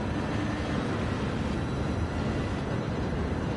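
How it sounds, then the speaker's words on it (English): Steady rushing wind noise heard from a rear-engine race car lapping Daytona in Gran Turismo 7, a constant broadband whoosh that stays loud and even throughout with no voices over it. "all we're hearing is like the wind sound"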